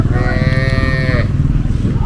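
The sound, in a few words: cattle mooing at a country cattle market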